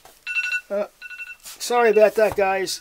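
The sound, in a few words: alarm going off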